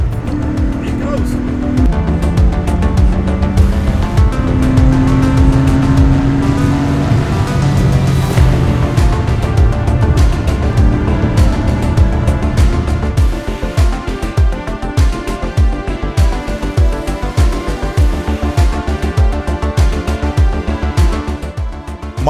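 A 1984 Porsche 911 Carrera M491 widebody, a turbo-look survivor, drives with a loud steady engine drone and shifting tones across the first seconds, then a rough, pulsing rumble with road noise. Faint talk sits underneath.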